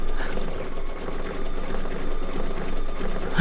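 An embroidery machine stitches a mug rug at a fast, steady mechanical pace, its dense rhythmic whirring filling the whole stretch without any talking.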